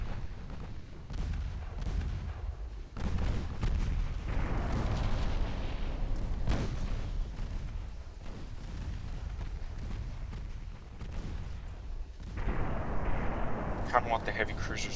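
Naval guns firing in the warship game Ultimate Admiral: Dreadnoughts during a battle for Hong Kong, with repeated booming salvos and explosions rolling through a dense battle din while someone talks over it.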